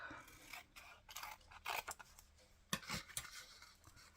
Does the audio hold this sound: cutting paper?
yes